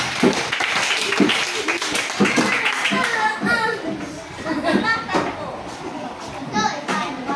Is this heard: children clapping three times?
yes